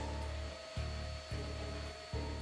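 A loud vacuum cleaner runs steadily on carpet with a constant whine and roar, its motor note dipping and surging briefly about three times as it is pushed.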